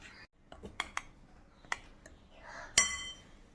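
Powdered sugar, cinnamon and cardamom being stirred in a bowl with a spoon: a series of light clinks and taps of metal on the bowl, irregularly spaced, ending in one louder, ringing clink.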